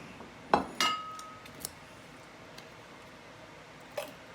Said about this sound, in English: I'm putting that into a bowl like that